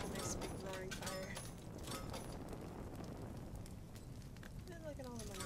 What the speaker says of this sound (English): Ah, nice big roaring fire.